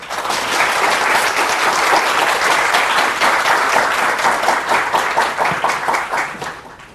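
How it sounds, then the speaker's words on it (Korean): Steady, loud applause fills a lecture hall as an audience welcomes a finance company chairman to the stage, dense clapping running throughout before easing off at the end. "큰 박수로 맞아주시죠."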